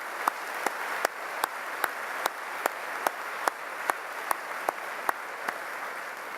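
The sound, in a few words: audience applause for honor students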